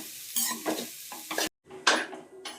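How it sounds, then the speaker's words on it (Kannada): Grated coconut lightly frying in a spoonful of ghee crackles and sizzles up close, with bursts of stirring scrapes and a short gap partway through. "ಸ್ವಲ್ಪ ಲೈಟಾಗಿ ಫ್ರೈ ಮಾಡ್ಕೋಬೇಕು."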